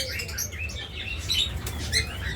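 A pair of blue opaline pet birds, the hen ready to lay eggs, chirp in quick, busy bursts close by over a steady low background hum, with no voices.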